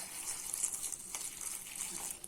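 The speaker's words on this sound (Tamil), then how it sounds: "தண்ணி ஊற்றி வேக வச்சுக்கலாம்" Water pours into a pot over cut brinjal pieces with three whole green chillies in a village kitchen, a steady close gush of liquid running throughout without pause.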